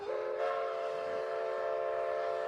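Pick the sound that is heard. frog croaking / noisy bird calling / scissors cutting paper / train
train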